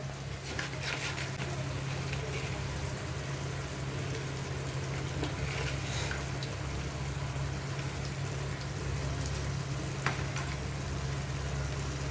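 Morola fish going into hot oil for a Bengali fish curry, giving a steady, dense sizzle and crackle that runs unbroken throughout, with a low hum underneath and no talking.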